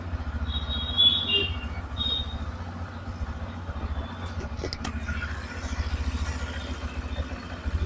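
A new Bajaj motorcycle engine runs at a steady idle nearby, with a low, even pulsing throb, light mechanical clatter and a few faint higher whines.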